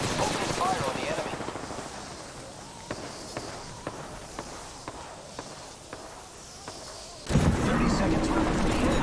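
Gunfire in the battle-royale game Apex Legends, a sequence of sharp shots spaced through a busy mix of footsteps and game noise, with a louder burst of activity near the end.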